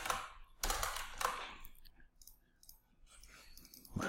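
Several quick keystrokes on a computer keyboard are typed in short bursts, close and fairly faint, with pauses and soft clicks between.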